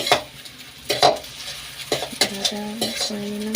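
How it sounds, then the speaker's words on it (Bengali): A spatula stirs egg with onion and tomato in a frying pan for chowmein, with scraping strokes and metallic clinks, some ringing briefly, over a low sizzle, close and distinct. "ডিম ঢেলে দিলাম তারপর নাড়ালাম আর ডিম পেঁয়াজ টমেটো"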